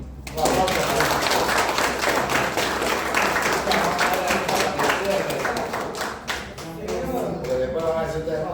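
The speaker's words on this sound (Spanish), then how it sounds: "Un aplauso." Audience applause after a talk commemorating 9 January 1964 in Panama, steady dense clapping filling the room for several seconds, with voices speaking over it.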